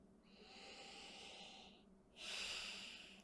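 Deep breathing, a long slow inhale followed after a short pause by a louder, breathy exhale, close and alone with no talking.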